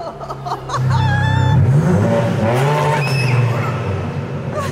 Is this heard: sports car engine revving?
yes